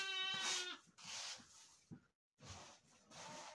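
Newborn lambs and sheep in a village barn, bleating in several loud, wavering calls close by with brief pauses and rustling between them.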